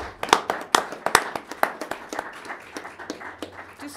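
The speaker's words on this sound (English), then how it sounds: "does everybody in the audience know what we're clapping about" Audience applause at a Uintah County commission meeting: a burst of sharp, close hand claps that thins into scattered, softer clapping over a few seconds.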